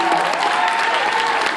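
A cosplay competition audience applauds loudly and steadily as contestants leave the stage, a dense, continuous wash of clapping with a faint voice or whistle tone running through it.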